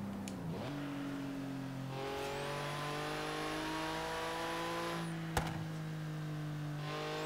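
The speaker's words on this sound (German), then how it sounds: "Dieser Porsche Boxermotor Sound, den ich einfach liebe." A Porsche boxer engine in the Forza Horizon 3 racing game revs hard and climbs steadily through the gears, loud and continuous, with a sharp shift click partway through and no talk.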